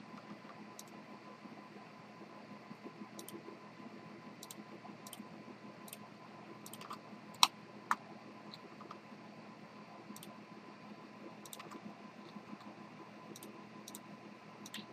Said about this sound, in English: I'm just holding control, left mouse clicking all these surfaces.